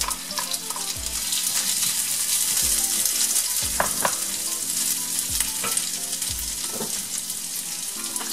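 Onions sizzle steadily as they fry and caramelize with sugar in a pan, with a continuous bright crackle and occasional scraping stirs, no talking.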